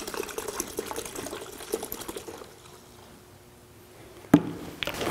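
Degreaser solution mixed with warm water pours steadily into a 1936 Chevrolet fuel tank, gurgling and splashing, then slows to a trickle before a brief sharp clank.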